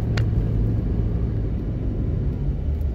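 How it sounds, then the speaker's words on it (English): A truck draws near on a narrow, blind-cornered mountain road at Mount Rosser, Jamaica, giving a steady low engine rumble with road noise that holds through the whole stretch and carries no talk. "there's a truck coming in."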